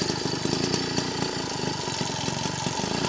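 Rebuilt engine with new cylinders and block idles steadily and loud, a continuous even mechanical running throughout with no voices.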